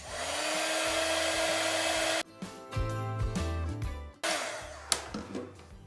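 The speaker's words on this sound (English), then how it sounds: "we're going to need to use the heat gun to melt the powder." A heat gun blows with a loud steady whir to melt embossing powder on a stamped Christmas card, cuts off abruptly, then restarts in short bursts with faint clicks and handling knocks between.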